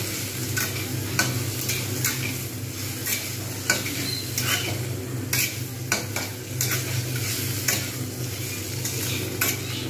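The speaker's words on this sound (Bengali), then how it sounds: "কিন্তু খুব ভালো করে ভেজে নেব চিংড়িটা।" Close, continuous sizzle of prawns frying in a pan, punctuated by frequent sharp metallic scrapes and taps of a utensil stirring against the pan, no voices.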